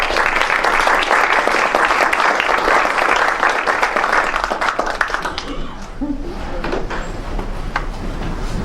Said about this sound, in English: So please give a round of applause and welcome.